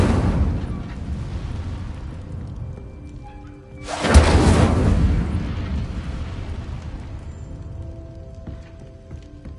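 A fiery Incendio spell bursts in Hogwarts Legacy on PlayStation 5, a sudden loud whooshing blast that swells and slowly fades over a low ambient game background.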